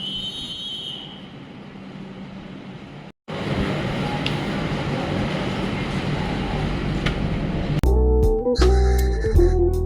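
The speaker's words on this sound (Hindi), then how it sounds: "ये कासरगोड रेलवे स्टेशन से अब हम निकल लिए हैं।" A Rajdhani Express pulls out of Kasaragod railway station in Kerala, giving a steady rolling rumble and broadband rail noise inside the train, briefly cut near the start, with rhythmic clanking and tonal bursts near the end.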